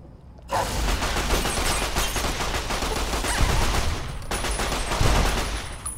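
Turret gunfire in Fallout New Vegas' Old World Blues X-8 Research Center, a sustained rattling volley of rapid shots with mechanical clatter that starts abruptly and stays loud and close throughout.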